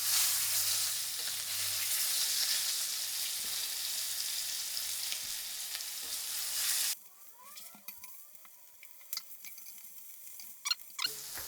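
Hot oil crackles loudly in a pan heated until smoking during a cooking lesson, a bright, continuous sizzle that cuts off abruptly partway through, leaving quiet clinks and faint squeaky scraping.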